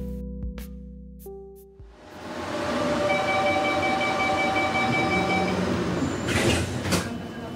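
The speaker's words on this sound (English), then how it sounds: "We're on board of one of Barcelona's trains" Rolling noise inside a Barcelona train carriage, with a steady rumble, faint clatter and a thin high squeal from the wheels. Loud and close, it rises from a quiet start about two seconds in.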